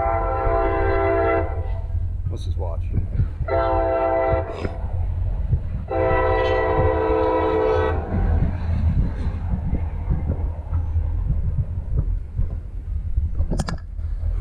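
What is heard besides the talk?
train passing with horn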